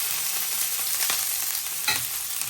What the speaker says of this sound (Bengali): পেঁয়াজ কুচি আর রাঁধুনি দিয়ে রান্না করলাম।